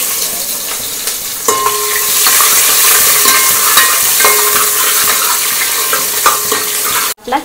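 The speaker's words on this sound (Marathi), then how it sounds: "हे आता आपण गोल्डन कलर येऊपर्यंत कांदा भाजून घ्यायचा आहे." Onion frying in a pan for chicken biryani, a steady loud sizzle with scattered clinks and scrapes of stirring throughout, ending in a brief sharp knock.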